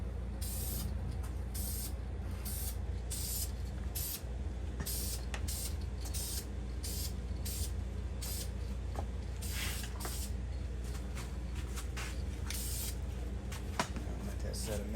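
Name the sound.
spraying a coat onto a 383 engine block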